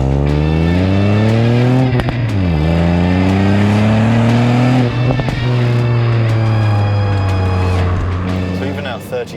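Loud, close engine of a 2019 Ford Fiesta ST revving through gears, pitch climbing steadily then dropping at each shift before rising again.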